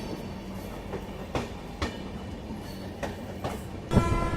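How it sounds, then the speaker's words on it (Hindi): A train approaches at speed near Rangiya railway station, heard as a low steady rumble with periodic sharp clacks of wheels over rail joints, growing slightly louder toward the end. "सामने से कोई तो ट्रेन आ रही है अच्छी खासी रफ्तार में"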